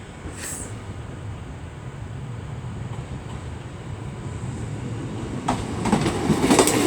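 A Class 153 diesel unit, 153327, rumbles toward the platform at Crewe station, a low steady drone that grows louder, with metallic wheel squeals and clatter rising at the end.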